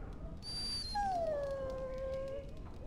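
A dog in the video game Dragon Age Origins lets out a single drawn-out, high whimpering whine that slides gently downward over a faint steady background hum, with no voices.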